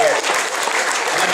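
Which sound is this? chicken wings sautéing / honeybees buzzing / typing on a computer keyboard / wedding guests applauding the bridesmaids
wedding guests applauding the bridesmaids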